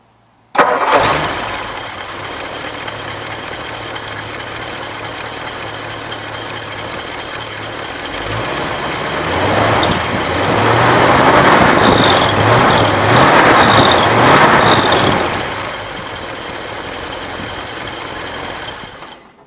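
A 1964 Ford Galaxie engine cranks and fires, then settles into a loud steady idle with a possible exhaust leak, rising briefly as it is revved before dropping back and cutting off.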